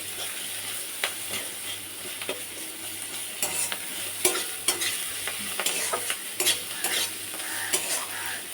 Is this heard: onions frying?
yes